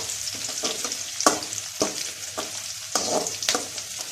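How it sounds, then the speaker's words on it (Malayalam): Garlic, chili and ginger fry gently on a low flame, a soft steady sizzle broken by a regular series of sharp spatula scrapes and taps against the pan, close and clear. "ഇളക്കി കൊടുക്കാം."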